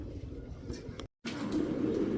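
A female racing pigeon of the Mili Paint variety coos low and muffled close by, soft rounded calls over a rough background, interrupted by a brief silent cut.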